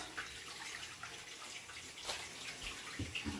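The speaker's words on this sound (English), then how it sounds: "And I'm just going to put a couple of cups of water." Water runs and splashes in a steady, faint stream into a pan, with a few clinks and sloshes near the end.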